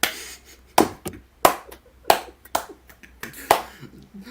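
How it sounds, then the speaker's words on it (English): Sharp handclaps and snap-like hits mark a brief round of applause for hockey player Kasperi Kapanen, about seven distinct bursts spaced irregularly, fairly close and loud, with no talking over them. "Let's give a round of applause to Mr. Kasperi Kapanen."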